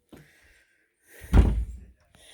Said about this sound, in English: the door doesn't shut